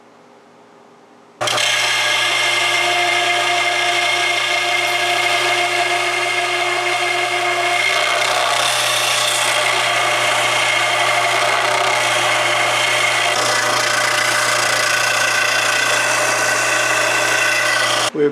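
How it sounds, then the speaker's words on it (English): A belt sander grinds steadily against a wooden end cap for a flintlock hunting musket, a loud, continuous abrasive whir that starts abruptly and holds without pause, with no talking. "We've gotten very close to where we need to be here with the belt sander."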